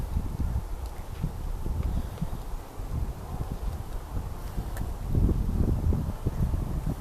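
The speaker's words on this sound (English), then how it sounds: "A little bit of wind." Steady outdoor wind blows across a microphone at a lake during fishing, a continuous low rumbling buffet that swells into stronger gusts near the end, with no talking.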